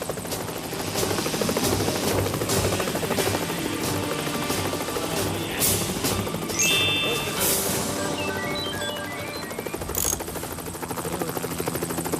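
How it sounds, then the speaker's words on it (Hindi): A repaired, broken-down helicopter flies in a cartoon, its rotor chopping loudly and steadily throughout, joined by clanks, a brief crash and tinkling effects toward the end. "अपने टूटे फूटे हेलीकॉप्टर को जोड़ तोड़ के उड़ने वाला बना ही लिया।"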